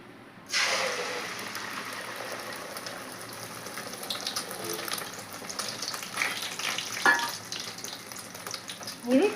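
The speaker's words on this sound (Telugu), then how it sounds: "ఆయిల్ కూడా బాగా హీట్ అయింది కాబట్టి నేను ఆయిల్లో వేస్తున్నాను" Beaten egg mixture for egg pachadi hits hot oil in a pan with a sudden loud sizzle, then keeps frying in a steady crackling hiss with a few stirring scrapes.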